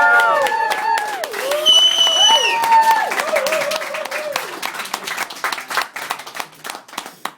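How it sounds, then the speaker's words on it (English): A stand-up comedy audience claps and whoops in a dense burst of applause, with tonal cheers rising over the clapping before it thins out toward the end. "they give you a round of applause. Give it up for Mr. Ben Doyle."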